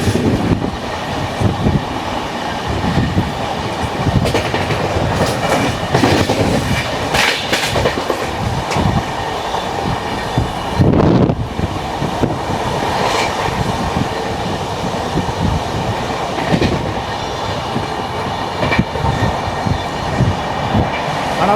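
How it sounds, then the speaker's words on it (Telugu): An AC superfast express from Bengaluru to Howrah runs fast on the Howrah–Chennai main line. Continuous wheel rumble and rhythmic clickety-clack over rail joints carry steadily throughout, heard from on board, with occasional squeals and no talk. "ఎప్పుడైతే హౌరా చెన్నై మెయిన్ లైన్కి ఎక్కిందో బండి అయితే మాత్రం మామూలుగా పరిగెత్తలేదు"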